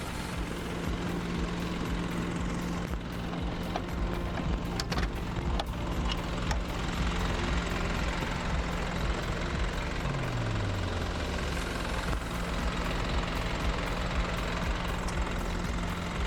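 A 2020 Isuzu NPR 16-foot box truck with an aluminum lift gate idles with a steady, continuous engine rumble and low hum, close and unbroken, with a few faint knocks and a brief dropping tone partway through.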